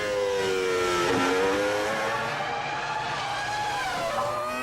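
Formula 1 cars from the 2005 season race through the Tamburello corner, their high-pitched engines loud and continuous, with overlapping tones rising and falling as several cars pass close by.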